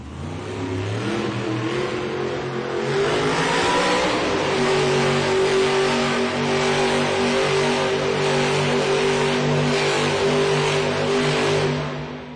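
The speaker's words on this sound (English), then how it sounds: "Up first, it's Kristen Anderson in Gravedigger" The Grave Digger monster truck's engine revs hard in an arena at a Monster Jam event in San Jose, a loud sustained roar that climbs in pitch and holds steady, with crowd noise beneath.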